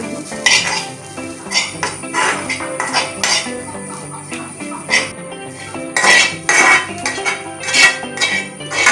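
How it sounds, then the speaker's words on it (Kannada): Egg frying in a pan while being stirred, with loud metallic clinks and scrapes of a utensil against the pan in an uneven rhythm over a soft sizzle, close up with no talking. "ತಾರೆ ಫ್ರೈ ಮಾಡ್ಬೇಕ"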